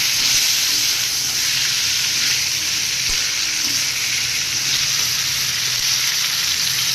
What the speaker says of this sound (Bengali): একটু ঢাকা দিয়ে দিচ্ছি এই দিকে আবার এই তরকারিটা নাড়ি